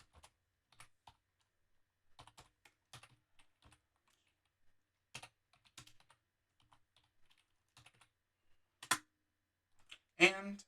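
Calculator keys are pressed in a sparse series of quiet, close clicks and taps spread across several seconds, with a couple of sharper presses near the end.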